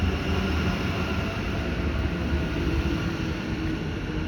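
A Sunbury line suburban train pulls into West Footscray station with a loud, steady rumble and roar that fills the whole stretch without a break, and nobody speaks.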